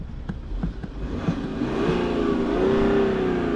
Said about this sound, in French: Le petit bruit de gasoil du Seigneur